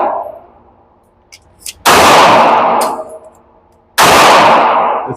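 Two loud, sharp gunshots from a Smith & Wesson M&P Metal Carry Comp pistol at a shooting range, about two seconds apart, each with a long ringing decay and preceded by faint clicks.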